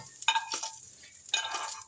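Cooked mushrooms are scraped from a hot frying pan onto a serving plate, giving close metallic scraping and clinking strokes over a faint sizzle, in two separate bursts.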